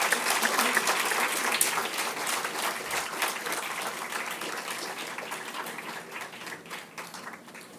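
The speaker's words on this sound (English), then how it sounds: "Let's give a huge round of applause to honor and appreciate our winners" Applause from a convocation audience honouring award winners, a broad crowd clapping that starts fairly loud and slowly tapers, with faint voices underneath.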